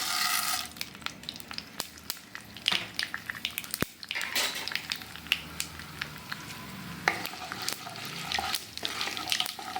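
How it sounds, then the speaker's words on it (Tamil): Seeds crackle and pop in hot oil with a steady sizzle, scattered sharp pops over a continuous hiss, close by. "இப்போ நம்ம கடுகு ஊற்றிக்கலாம்"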